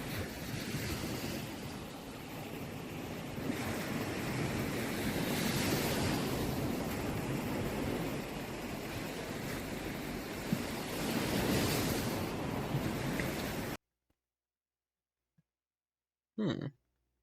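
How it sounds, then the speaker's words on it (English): Ocean wave ambience in the Stimulation Clicker video game: a continuous roar of surf with slowly swelling and receding waves and a windy hiss, moderately loud, cutting off abruptly into near silence with one brief soft sound after. "I will turn up the ocean noise for you."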